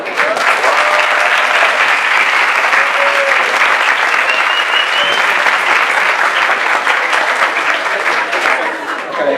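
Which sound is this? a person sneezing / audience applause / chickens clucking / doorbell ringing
audience applause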